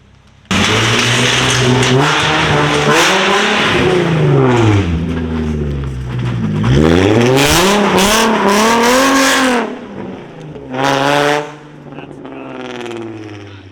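Loud, raspy straight-piped exhaust on a Nissan 350Z with a VQ engine revving hard, pitch climbing and falling in repeated surges, close by, ending with short blips and an idle rumble.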